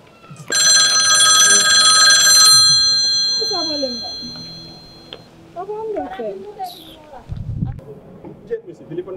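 Telephone bell ringing, a loud metallic burst lasting about two seconds that then decays, followed by voices and a few other sounds.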